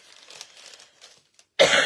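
A single abrupt, loud cough bursts out near the end, following a stretch of faint rustling during quiet crafting.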